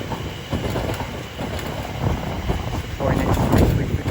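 A train passes through Shenfield station on the Great Eastern Main Line, giving a steady broadband rumble and rush of wheels and air that builds louder toward the end, with station ambience around it.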